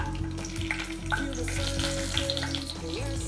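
Cashew nuts frying in a pan for veg kaju rice, with a steady loud sizzle and bubbling throughout, punctuated by scattered pops and faint clinks of stirring.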